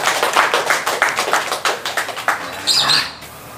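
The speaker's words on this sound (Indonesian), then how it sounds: "Yuk, tepuk tangan," A crowd at an outdoor town square gathering claps hands in short, uneven bursts with distinct slaps, rhythmic at first and then fading, followed by a brief squeaky sound near the end.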